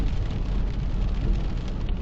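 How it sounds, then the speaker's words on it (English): Steady rain patters and hisses continuously in the dark on a road in upstate New York, filling the scene with an even wash of noise and a low rumble underneath. "It's dark and it's rainy out."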